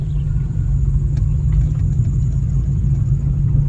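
A manual car engine hums at low revs as the clutch is slowly released in second gear, a steady close rumble without talking.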